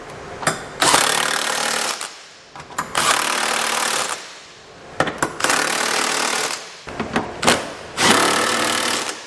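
A power tool snugs down the bolts of a Curt trailer hitch receiver being installed on a 2015 Toyota Highlander, running in about four loud, close, rattling bursts of one to two seconds each with short pauses between them.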